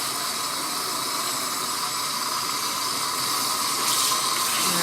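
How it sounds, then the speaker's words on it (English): Water runs steadily while rinsing hair extensions, a close continuous hiss and splash from a tap that swells slightly toward the end, with no talking. "I'm going to rinse down the extensions one more time"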